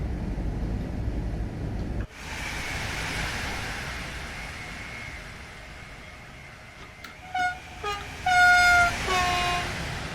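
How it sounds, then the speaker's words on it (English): Train horn sounding in Train Sim World 5 on the Kinzigtalbahn line in Germany, a few short tonal blasts late in the clip after a steady rumble of the moving train, fairly close and clear. "I didn't even notice the horn actually changed."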